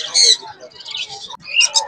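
Birds call in short, high chirps and squawks close by, in a brief burst with a couple of quick notes near the end.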